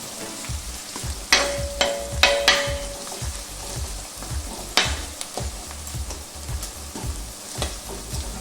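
Sliced onion sautés with salt in a hot pan for a raw mango curry, a steady sizzle with quick, repeated stirring scrapes and a few sharper clinks near the start.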